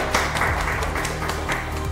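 A burst of audience applause at a live card-magic show, many hands clapping at once in a dense, continuous patter.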